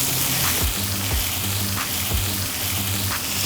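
Onions pre-seasoned with sugar and salt, sizzling in a little oil in a pan beside a tomahawk steak, giving a steady close frying hiss with a few light stirring scrapes.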